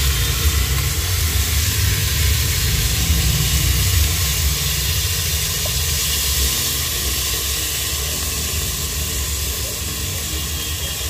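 Rice and fried mung lentils sizzle in a pan while mung dal khichuri cooks. The hiss is steady and loud for the whole stretch, with no talking over it.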